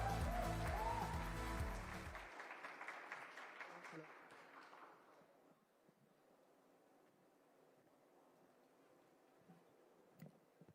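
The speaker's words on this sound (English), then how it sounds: "huge round of applause" Audience applause at a tech awards ceremony in India, loud full clapping for about two seconds that then thins into scattered claps and fades to quiet room noise.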